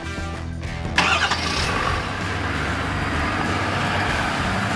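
A 2020 Ford F-250 Super Duty pickup engine cranks briefly and catches, then settles into a steady, fairly quiet idle rumble.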